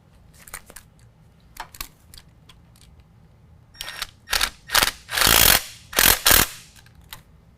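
A hand ratchet drives a factory bolt back into an actuator mount on a 2019 GMC Sierra 1500 during a lift kit install: a few faint clicks at first, then bursts of loud, rapid ratcheting close by.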